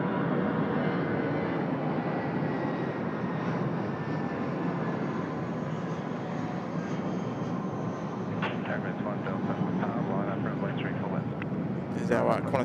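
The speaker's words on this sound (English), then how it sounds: "There's our Qantas 74 from San Francisco, just rolling in." A Qantas airliner on arrival from San Francisco at Sydney Airport, rolling in with a steady, loud broadband engine roar that holds throughout, while people talk over it.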